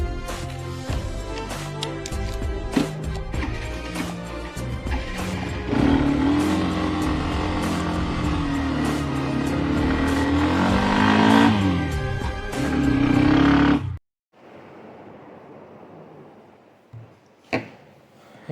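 A motorcycle starts up and revs hard before riding off during a dramatized Hindi scene, with its engine roar thick and continuous for about fourteen seconds, then cut to near-silence with a brief faint knock.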